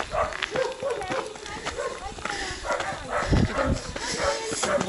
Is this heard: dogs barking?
yes